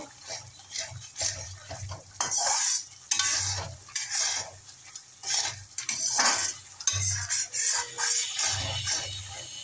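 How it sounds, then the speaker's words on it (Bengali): Cauliflower and nut-based masala stir-fried in a pan for a malai cauliflower dish, with repeated scraping and stirring strokes over a steady sizzle, close and fairly loud, no talking. "আমি 2-3 মিনিটের মতো এইভাবে কষে নিই, একটু একটু করে জল দিয়ে কষবো।"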